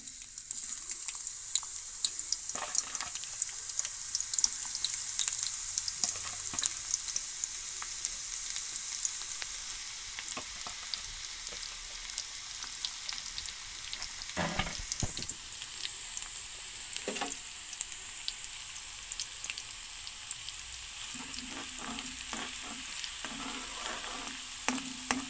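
Shallots sizzling and frying in hot coconut oil for an Attu wala fish curry, a steady close crackle with occasional stirring scrapes and a brighter surge partway through.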